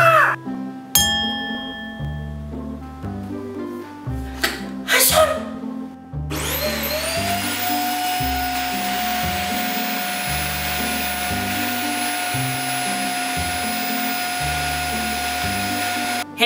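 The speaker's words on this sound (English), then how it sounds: "but they didn't say you can't vacuum" Vacuum cleaner switching on and running steadily with a loud, constant whine after a few seconds of other noise, while a low rhythmic musical beat continues underneath.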